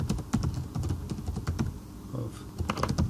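Typing on a computer keyboard while entering text in translation software, a steady run of quick, light key clicks with irregular rhythm, close up and alone.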